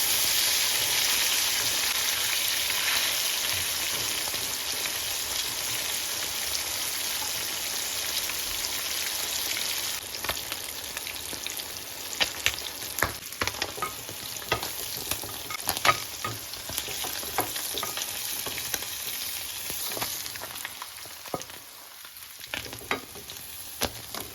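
Kili fish fry frying in hot oil in a pan, a steady, dense sizzle close by with scattered crackles and pops building in the second half, occasional stirring, no talk.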